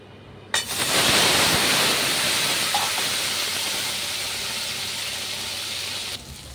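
Cumin seeds and dried red chilies hit hot oil for tempering with a sudden loud sizzle, then settle into a steady bright hiss that continues close by until it cuts off near the end.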